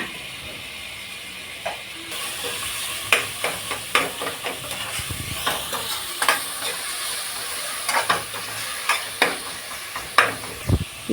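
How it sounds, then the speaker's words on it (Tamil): Two small chopped tomatoes are stirred in a hot pan for egg biryani. A steady sizzle runs throughout, and a spoon scrapes and knocks against the pan in irregular strokes, close up and with no talking. "சின்ன சைஸ் தக்காளி 2 தக்காளி போட்டுக்கலாம். போட்டுட்டு அதையும் நல்லா வதக்கி விட்டுக்கலாம்."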